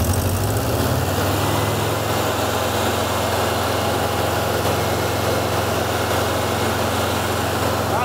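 Air-cooled VW Mexico Beetle engine that is running too hot, heard up close as it idles steadily and then rises slightly with added throttle, holding a continuous low rumble with no talk.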